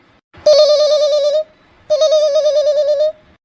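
A phone call rings out, two long, buzzing electronic tones about a second each, separated by a short gap, loud and clear with no other sound around them.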